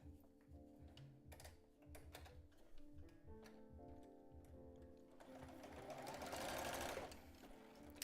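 A sewing machine stitches a zigzag seam on an old bra, with quick rhythmic ticking bursts and pauses, then a louder, faster continuous run near the end, close by.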